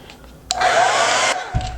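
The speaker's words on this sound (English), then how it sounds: "so if my blow dryer would sit still" A handheld blow dryer switches on abruptly and roars steadily at close range for under a second, then cuts off, with a soft thump afterward while drying hair during a lace frontal wig install.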